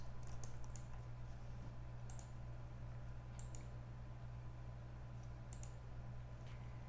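Faint typing on a computer keyboard, scattered soft key clicks in small irregular bursts over a low steady hum, with no one talking.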